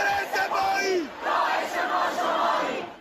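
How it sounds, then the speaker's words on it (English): Iranian protesters in a street crowd shout and chant in rhythmic bursts, many voices rising and falling together in loud, close waves throughout. "In Tehran, crowds shouted for Iran's supreme leader, Ayatollah Khamenei, to step down."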